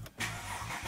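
A cold Chrysler 300C with a Mercedes-built diesel engine cranks briefly and catches at once, settling into a rough, close idle after a short starter burst.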